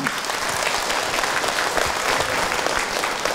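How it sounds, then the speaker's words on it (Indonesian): An audience at an Islamic religious talk gives a speaker a round of applause, dense, steady clapping from many hands filling the whole stretch at a close, even level without voices. "tepuk tangan untuk Ahilman"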